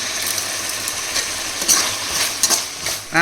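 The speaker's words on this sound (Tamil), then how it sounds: "இப்போ வந்து சின்ன வெங்காயத்தை கொட்டிக்கலாங்க" Shallots tipped into a hot pan with rock salt sizzle and fry in a steady, close hiss, with a few louder crackles and scrapes of stirring over about three seconds.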